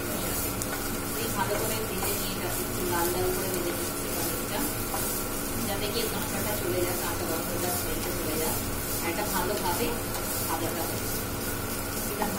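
Paneer paratha stuffing fries in an oiled pan while lumps are broken up and stirred, giving a steady, dense sizzle and hiss with soft scraping throughout.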